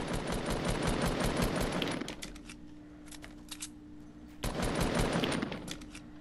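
Rapid automatic gunfire in Fortnite crackles loud and dense for two seconds, drops to a low hum with a few scattered shots, then bursts back in a second heavy volley.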